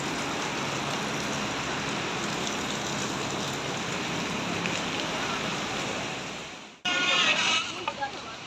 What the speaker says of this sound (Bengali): এই যে সেই ঝর্ণাটা যখন যাচ্ছিলাম আমরা তখন দেখেছি।